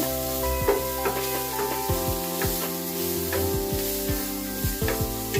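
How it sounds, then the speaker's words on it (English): Chopped onions sizzle loudly in a hot frying pan, with occasional scraping and stirring clatter over the constant crackle. "Add 2 chopped onions into the frying pan."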